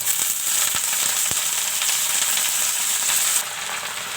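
Radish greens hit hot oil in a frying pan that already holds garlic, onion and chili, giving a loud, steady sizzle with a few sharp crackles that eases off slightly near the end.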